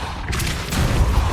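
Depulso spell in Hogwarts Legacy: a brief, loud whooshing magical blast with a rumbling, crashing low end that swells and hangs for about a second.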